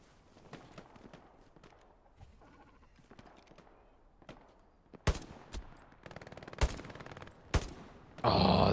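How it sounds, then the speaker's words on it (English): Aircraft strafing gunfire in the video game Hell Let Loose: scattered distant shots and footsteps, then several loud, sharp bursts hitting close by, ending in a heavy sustained roar. "why are they randomly strafing the west side?"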